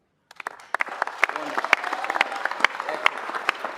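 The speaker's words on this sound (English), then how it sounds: "Another round of applause for him, please, please, please." Audience applause at a city council meeting, starting abruptly and building into a steady round of scattered clapping with sharp individual claps, moderately close and mid-level in volume.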